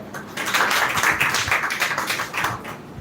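Audience in a school speaking event hall clapping for a student speaker, a dense, steady burst of many hands that swells quickly and holds loud for about three seconds before thinning slightly.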